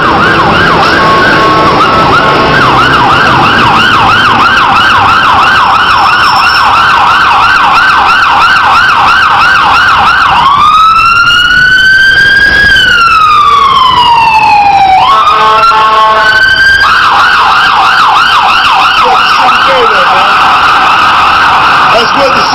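Emergency vehicle sirens, ambulance and police, wail very loudly and close, cycling through rapid yelp patterns and a long rising and falling tone before the fast warble returns.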